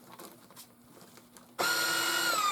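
Vacuum sealer machine working on vacuum seal bags: faint handling clicks and rustles, then the motor kicks on abruptly into a loud, steady mechanical whir with a whining tonal hum that continues to the end.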